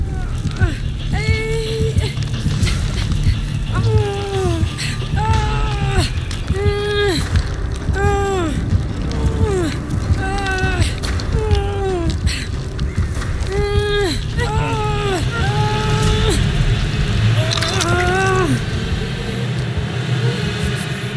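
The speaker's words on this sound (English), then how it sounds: "That chainsaw echo, though." A chainsaw in Dead by Daylight revs again and again in rising, whining bursts that echo, over a constant low rumble.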